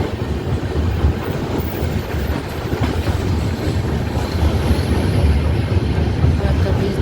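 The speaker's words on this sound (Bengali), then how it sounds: "ট্রেনটা ফারাক্কা ব্রিজের উপর দিয়ে যাচ্ছে।" A passenger train rumbles across the Farakka bridge, heard from on board as a steady, heavy low roar with faint rhythmic wheel clatter, continuous throughout.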